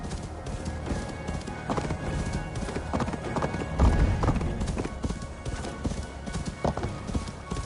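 Horse hooves clip-clop at a steady walking pace in Assassin's Creed Valhalla, continuous and fairly close over a rumbling outdoor ambience, with a faint voice in the background.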